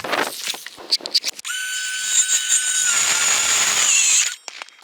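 A brushless three-phase power saw cuts through wood while framing a shed base. A few short knocks lead into a loud, close whine that holds steady for about three seconds, then stops abruptly and leaves a few faint clatters.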